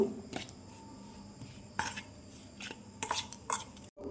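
Chicken masala, ground coriander and cumin are mixed in a bowl, giving quiet scraping and stirring sounds with a few sharp clinks of a utensil against the bowl, spaced irregularly.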